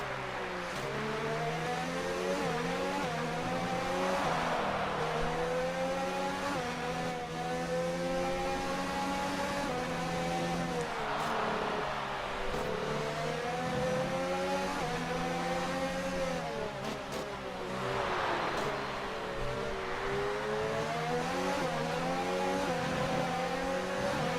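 Race car engines in the F1 2019 video game whine continuously at close range, the pitch repeatedly climbing and dropping through gear changes over nearly half a minute.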